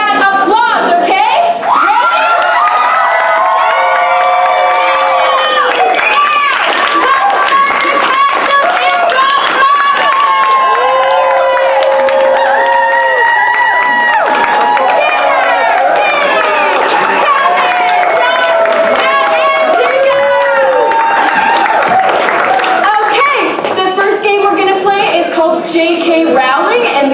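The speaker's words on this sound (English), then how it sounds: "give me that applause, okay?" An audience at an improv show cheers, whoops and claps, a loud, continuous crowd roar full of high shouts and excited voices that stays strong throughout.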